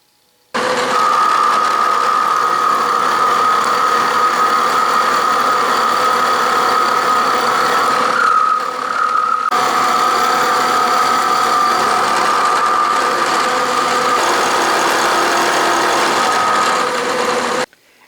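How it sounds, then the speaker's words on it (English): A saw cuts through metal stock to part it into two blocks, a steady loud mechanical whine running continuously for the length of the cut with a brief dip midway, no talking. "I just sawed the piece in 2, so now I have 2 1¼ inch blocks"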